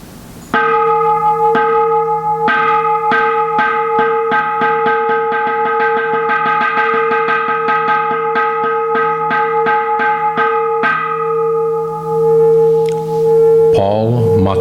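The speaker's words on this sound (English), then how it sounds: "After the last name is called and incense offered, he will hit the gong several times" Inside a Buddhist temple during a Jodo Shinshu service, a resonant gong is struck in a steady run of many evenly spaced hits, loud and close, each ringing into the next before the strikes stop and the tone decays.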